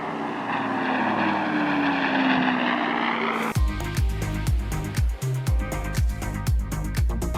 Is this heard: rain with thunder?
no